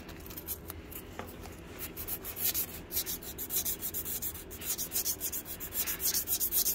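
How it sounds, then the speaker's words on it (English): Hand sanding on a truck's metal chassis: rhythmic back-and-forth rasping strokes, close and steady, growing a little stronger, with no voices. "I have to hand sand it"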